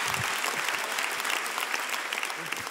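A live concert crowd in Los Angeles applauds Armenian singers, a steady wash of many hands clapping at moderate level for a few seconds, without any voice on top.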